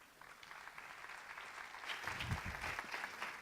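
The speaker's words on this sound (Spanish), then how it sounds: "La recibimos con un aplauso." Audience applause welcoming a speaker at a talk on education and social networks, a fairly quiet, diffuse patter of clapping that swells a little midway, with some low rumble of movement and no clear speech.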